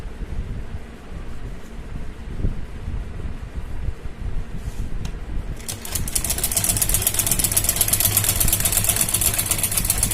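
A sewing machine stitches decorative trim along the edge of a kurti neckline. A low, steady hum runs underneath, then the motor's fast, continuous whirring starts about halfway through and carries on at an even level to the end.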